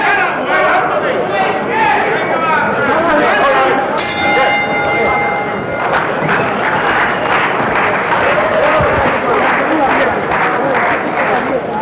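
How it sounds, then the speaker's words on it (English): A boxing ring bell rings to end round 3, a clear tone sounding over a loud arena crowd's cheering and chatter, with an announcer talking throughout. "Final seconds as we head for the bell here in round 3."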